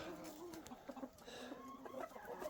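Farm chickens cluck softly while pecking at broken rice from subsidized government grain, with scattered short clucks and murmurs from several birds, faint and fairly distant.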